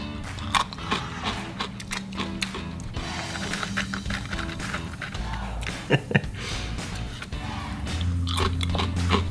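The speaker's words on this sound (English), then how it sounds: "Teeny tiny little chips. We gotta go cheese first." Close-up crunching and chewing of tiny nacho chips dipped in cold cheese from a snack kit, with repeated crisp bites and mouth sounds.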